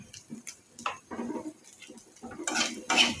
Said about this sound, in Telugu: వేసుకున్నాక మొత్తం అంతా బాగా కలిసేలాగా కలుపుకోవాలి